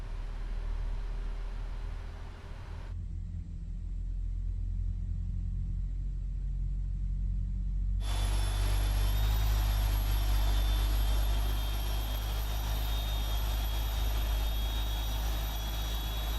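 Boeing 777 freighter engines spooling up in Microsoft Flight Simulator: a steady low rumble that grows louder and fuller, with a high whine joining in partway through and holding steady, no voices over it.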